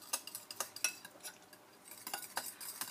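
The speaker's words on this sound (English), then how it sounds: "Stir that all up nice and fresh." A utensil scrapes and clicks rhythmically against a pan while sauce with fat-free feta cheese is stirred, quiet close taps in quick irregular succession.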